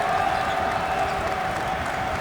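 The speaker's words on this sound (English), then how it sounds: "This Rutgers crowd really getting loud at the rack." A Rutgers home crowd at a college basketball game against Hartford, a steady wash of cheering and crowd noise at moderate distance with no clear individual voices.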